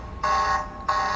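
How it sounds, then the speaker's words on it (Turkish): Panic alarm from a Ys-13 Pro dual-camera baby monitor, triggered remotely: two loud, steady electronic alarm tones, the second starting after a short dip, with no talking. "kameraya alarm verdirebiliyoruz. Panik butonu şeklinde."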